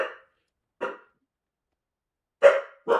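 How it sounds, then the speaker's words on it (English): Puppies bark in four short, sharp yaps with gaps between them, the last two close together, loud and near against silence. "Hey, puppies, chill."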